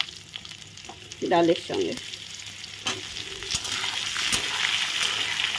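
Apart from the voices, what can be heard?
potatoes frying with lentils in a pan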